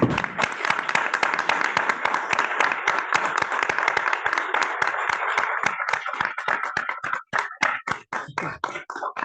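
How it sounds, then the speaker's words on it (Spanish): Sustained applause from a gathered audience at a book launch event, a dense wash of many hands clapping that thins toward the end into scattered, sparser claps. "un minuto de aplausos a nuestra democracia"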